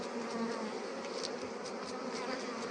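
Buckfast honey bees hum continuously around the hives, a close, steady buzzing drone that holds at an even level throughout, with no speech.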